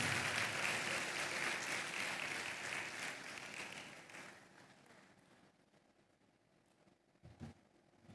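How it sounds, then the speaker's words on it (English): Applause from a summit audience welcoming a business school dean starts fairly loud and dense, then thins and fades over several seconds into a quiet room, with a brief bump of noise near the end. "with a warm round of applause, please join me in welcoming the Dean of the Lagos Business School, Professor Yinka David West"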